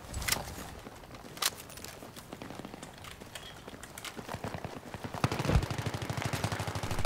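M5K submachine gun firing in Battlefield 3, with several short bursts of rapid automatic shots spread across the stretch, the heaviest volley near the end, set against busy battlefield noise.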